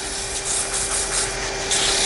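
Sandpaper rubs against a wooden muddler spinning on a lathe, a continuous close abrasive hiss over a steady motor hum, with no talking.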